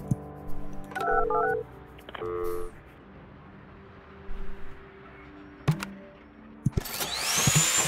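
Telephone dialing tones play as short electronic beeps in the building-management game Project Highrise, with some clicks and interface sounds after them. A harsher burst of game noise rises near the end.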